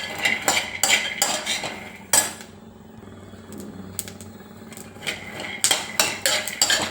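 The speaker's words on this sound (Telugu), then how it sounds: "గిన్నెలో పల్లీలు పోసి వేయించుకుంటున్నాను" Peanuts being roasted and stirred in a pot on a stove, a metal spoon scraping and clinking against the pot in quick bursts, with a quieter gap in the middle before the stirring clatter picks up again.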